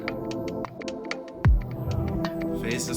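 Synthesizer patch run through phase distortion in a beat-making session, with repeated bright, buzzy chord stabs, a sharp low downward-sweeping hit partway through, and a steady throbbing undertone.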